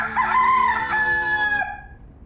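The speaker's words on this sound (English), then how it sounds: "this is the most professional chicken I've ever worked with" A rooster crows once nearby, a loud drawn-out call that rises, holds and then fades away over about two seconds.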